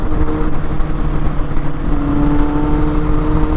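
A Kawasaki Z800 motorcycle fitted with a GPR exhaust runs close by, giving a loud, steady, rough engine rumble for a few seconds with no talking.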